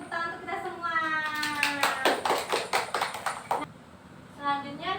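A school class claps together in a short burst of rhythmic applause lasting a few seconds, surrounded by children's and a teacher's voices in a classroom.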